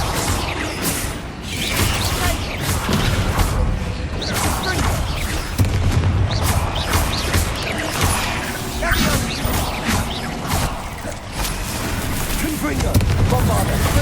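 Bombarda blasting spells in Hogwarts Legacy set off repeated booming explosions in a dense, loud, continuous barrage of battle noise, mixed with voices calling out spells.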